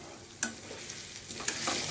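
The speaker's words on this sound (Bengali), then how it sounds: "ভাজা হয়ে গেছে।" Jackfruit koftas fry in hot oil with a continuous soft sizzle, broken by a few sharp clinks as they are stirred or turned, quiet and close with no voices.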